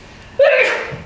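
A single sharp sneeze bursts out suddenly after a moment of quiet, close and loud, trailing off briefly.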